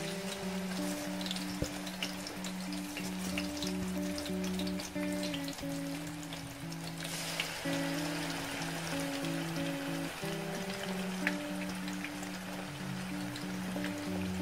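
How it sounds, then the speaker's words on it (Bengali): Leather jacket fish frying in hot oil for a Bangladeshi-style fish curry, giving a steady, dense sizzle throughout with a soft sustained melodic tone underneath. "মাছ ভাজা শুরু করছি এখন।"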